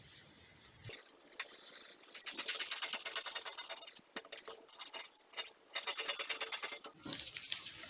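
Scissors cutting the front neckline of a paper peplum blouse pattern: a run of crisp, rustling snips and paper crinkles, close and fairly quiet, with brief pauses between cuts.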